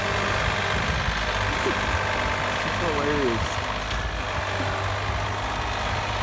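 A tractor engine chugs steadily at a low pitch, idling under loud, excited voices talking and laughing throughout.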